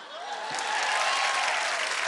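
Studio audience applause on a Marathi-Hindi TV show, a steady wash of clapping that swells in the first half-second and holds loud and dense, with a faint voice briefly audible over it.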